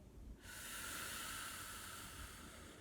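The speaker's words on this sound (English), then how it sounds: "And keep breathing like this as I continue talking." One slow, deep breath from a guided breathing exercise, a long airy rush of air that swells and then holds steady, quiet and close with no talking.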